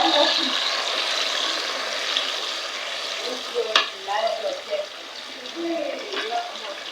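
Tomato added to a pan in an African village kitchen, a bright sizzling fry that settles into softer bubbling with scattered stirring clunks and scrapes.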